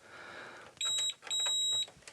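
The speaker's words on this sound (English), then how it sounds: "Just using my multimeter in continuity testing mode. So it beeps if we have continuity" Multimeter in continuity mode beeping while fuses in an NAD 7020e vintage receiver are tested, two clear electronic tones, one short and one longer, separated by a brief gap and heard close up.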